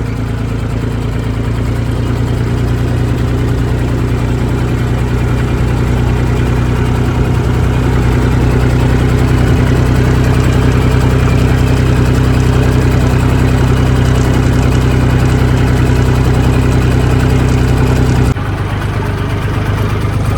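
A tractor engine idles in heavy rain, a loud, steady low rumble with the hiss of the downpour laid over it, holding constant throughout before the tone shifts slightly near the end.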